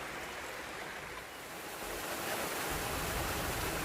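A mountain valley stream in a high Gyeonggi-do forest rushes steadily, a dense, even wash of flowing water that swells slightly louder partway through, with no voices.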